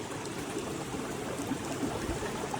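A steady, close wash of clear stream water runs over rocks in the Meghalaya hills, an even broadband rush with small bubbling splashes and nobody speaking.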